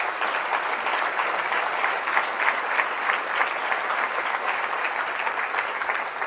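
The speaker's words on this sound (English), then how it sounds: "Give yourselves a round of applause tonight." Audience at a Military Child Education Coalition keynote event applauding, dense steady clapping throughout, loud and with no voices over it.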